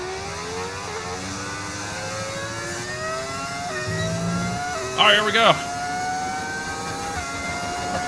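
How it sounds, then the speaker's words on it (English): Formula 1 car engines in F1 25 rev with a high, climbing whine that steps up through the gears, steady and moderately loud, with someone talking briefly over them. "Love the sound of the engines."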